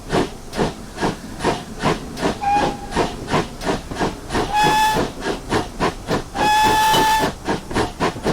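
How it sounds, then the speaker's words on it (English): Repeated shrill blasts from the steam whistle of a GWR Pannier tank locomotive in Train Simulator Classic, loud and piercing, sounding over a steady rhythmic chuff of exhaust beats with no talking. "the only thing I will say about that whistle sound is it is very, very loud"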